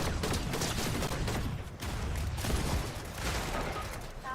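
Rapid, dense shotgun blasts in a battle royale video game fire in a continuous loud barrage, with bursts of gunfire and mechanical clatter layered throughout.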